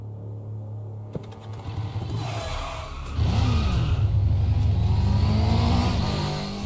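A car engine in Guilty Gear Strive revs up midway, its pitch climbing and holding loud over a steady mechanical rumble.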